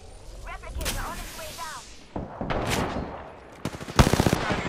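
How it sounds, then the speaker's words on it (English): Gunfire aimed at the player in a sci-fi shooter crackles in rapid bursts, building to a dense, loud volley near the end, with a voice talking over the fight. "How you shooting at me?"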